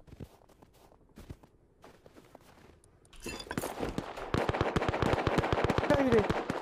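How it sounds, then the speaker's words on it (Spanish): Rapid bursts of gunfire in the game Rust, sparse at first and then building into dense, loud automatic shooting. "no sé dónde me vienen los tiros"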